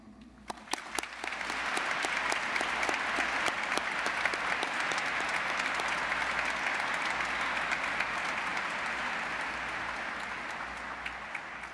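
Sustained applause from a large crowd at a university graduation ceremony, building quickly after a few scattered claps and holding steady and loud throughout.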